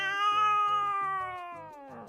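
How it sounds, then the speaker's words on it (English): A house cat lets out a long, drawn-out meow with a rising then falling pitch, close and fairly loud, lasting about two seconds with no talk over it. "my cat will hear, and then you just hear meow!"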